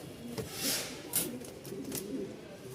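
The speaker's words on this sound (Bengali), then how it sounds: "ফাটাফাটি ডাকের একটা নর ডাক দেখলেই বুঝতে পারবেন আসেন একটু ডাকটা দেখাই" Male Giribaz pigeon at a pigeon market cooing softly in a few short, close phrases over light background noise.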